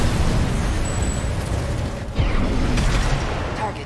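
A destroyed target explodes in Armored Core VI, a broad rumbling blast with a sharper burst partway through, set against continuous mechanical mech noise and no talking.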